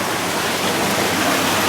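Water is pumped through a fish pond filter in a steady, close, loud rushing and splashing wash that never lets up.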